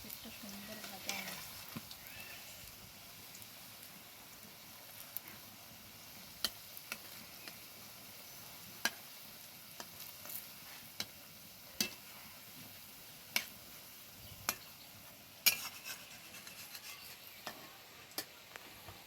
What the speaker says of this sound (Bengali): এই দেখো পকোড়াগুলো কিন্তু খুব ভালোভাবে ভাজা হয়ে গেছে